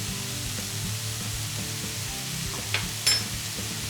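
Tempeh pieces seasoned with barbecue powder sizzle steadily in a hot pan, a continuous close frying hiss with soft stirring scrapes and a couple of brief sharper clicks near the end.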